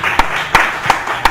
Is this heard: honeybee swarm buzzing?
no